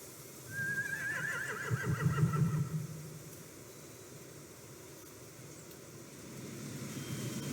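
A single horse whinny in The Walking Dead video game rises and wavers for about two seconds over a steady low rumble, then fades into quiet background noise.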